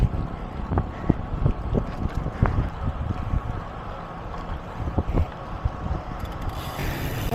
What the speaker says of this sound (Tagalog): Lakas pa na hangin.